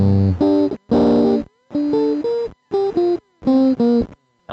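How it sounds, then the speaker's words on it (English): Guitar played through an Arduino-built bit crusher reduced to its four most significant bits, giving a gritty, lo-fi digital tone; several short phrases of plucked notes separated by brief silences, close and loud, with no talking. "let's say you want to make a bit crusher."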